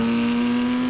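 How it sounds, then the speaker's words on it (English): Naturally aspirated Mezger flat-six of a Porsche 997.1 GT3 RS, a loud, steady high-pitched engine tone held at constant revs for about a second, close and alone. "the raw feeling and the motorsport soundtrack of that Mezger engine"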